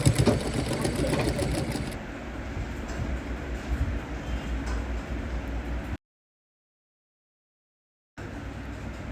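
A sewing machine runs steadily, stitching cloth for a prince-cut blouse with a close, continuous whirring hum. It cuts to total silence for about two seconds, then resumes.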